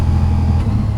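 Ducati Diavel V4 motorcycle engine pulling hard under acceleration, a loud, steady, close-up roar with strong low harmonics sustained throughout, no talking.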